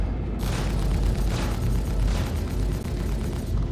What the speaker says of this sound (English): Someone's shooting missiles at him.